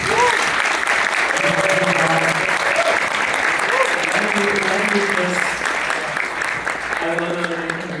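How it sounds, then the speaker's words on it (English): An audience gives loud, sustained applause after a film Q&A with the directors, a steady dense clatter of many hands while voices talk and call out over it. "Please give a round of applause."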